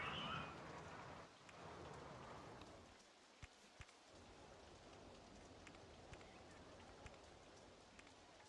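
Rain from the theme-park building game OpenRCT2 hisses in a steady, faint wash, with a brief louder stretch at the start and scattered droplet ticks throughout, and no voices over it.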